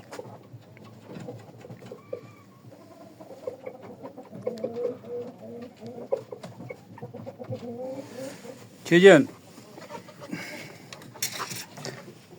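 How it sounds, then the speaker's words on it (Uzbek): A purebred Japanese rooster gives soft clucks and low murmurs close by, then one louder sharp call near the end, while someone talks quietly. "Mana xoroz. Toza yapon zotlardan."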